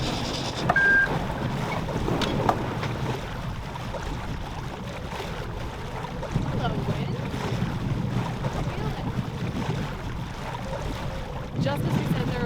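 Steady wind rushes over the microphone aboard a sailboat as the breeze fills in through a small valley, with a constant hiss and low rumble of water and hull sounds and no talking.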